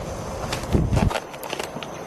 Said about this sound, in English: Like footsteps.